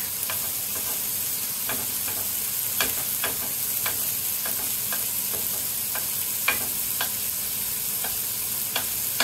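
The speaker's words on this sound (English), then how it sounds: "I use a wooden spoon for this because I'm in Teflon and I don't want to scratch it." A wooden spoon stirs food in a Teflon pan over steady frying sizzle, with light intermittent scrapes and taps against the nonstick surface at an uneven rhythm, close and continuous; no speech.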